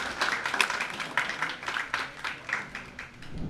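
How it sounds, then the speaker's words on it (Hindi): An audience at a Republic Day mushaira in Delhi claps to welcome a poet, a lively patter of many hands with distinct individual claps, moderately near and without talk. "तालियों से जरा उनका इस्तक़बाल कीजिएगा।"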